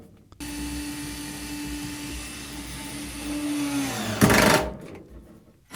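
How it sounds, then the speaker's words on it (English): A power tool drives 3/16 bolts through a gun safe into the wall, a steady motor whine running for several seconds before a brief louder burst of tightening near the end. "And now tightening the 3/16 bolts"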